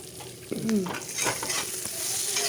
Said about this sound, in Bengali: আর এখন বেগুন ভাজা চলছে